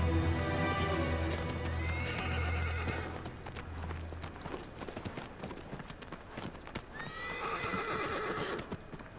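A horse in a video game gallops at full speed, a fast rhythmic clip-clop of hooves close up, with two loud neighs, one near the start and one near the end, and no talk.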